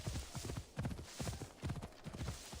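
Horse hooves clip-clop in a steady galloping rhythm in the Assassin's Creed Odyssey video game, loud and close, with no talk over them.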